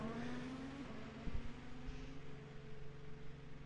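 Indy cars racing in a simulator at 1966 Le Mans, a loud steady engine whine with shifting pitch and a brief thump, cars close together, no talking.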